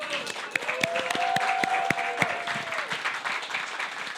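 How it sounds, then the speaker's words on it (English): A CreativeMornings audience gives a final round of applause, a continuous, fairly loud wash of clapping with a few sharper individual claps and faint vocal tones over it. "last round of applause"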